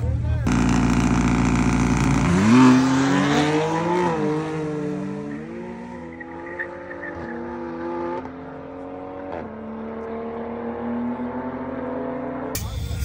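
A street grudge race car spins its tires hard, a loud, sustained engine roar with rising and falling pitch sweeps as it revs, running almost continuously for about ten seconds with a sharp burst at the end.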